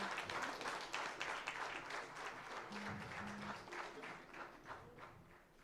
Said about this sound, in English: let's give a thunderous round of applause to our one and only chapter director